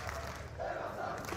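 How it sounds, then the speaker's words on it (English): A large esports crowd in a Copenhagen arena at a Rocket League major cheers and chants in a loud, sustained roar. "The Copenhagen crowd has been nothing short of phenomenal so far."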